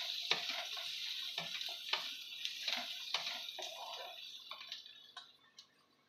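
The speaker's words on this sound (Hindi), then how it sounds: "प्याज को चलाते चलाते भूनना है जिससे कि प्याज तले में भी नहीं लगे और अच्छे से भून जाए" Onions stirred and fried in a pan for restaurant-style paneer do pyaza, with soft repeated scraping strokes and a light sizzle at a steady, unhurried rhythm, fairly quiet and close.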